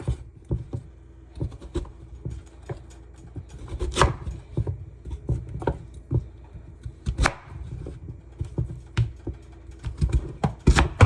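A knife chops sweet potatoes on a cutting board in a home kitchen, giving an irregular run of close, sharp knocks and taps with no talking.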